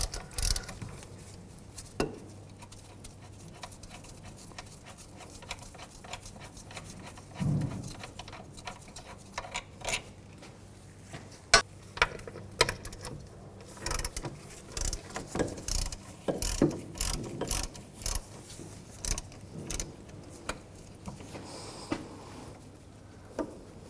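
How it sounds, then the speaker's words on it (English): A ratchet with a 19mm socket loosens rear brake caliper bracket bolts on a 2002-2006 Nissan Altima, giving repeated close clicking bursts and metallic mechanism rattles throughout, with no talk. "Use a 19mm socket. And take these out. Just get them loose."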